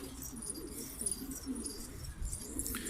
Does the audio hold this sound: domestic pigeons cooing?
yes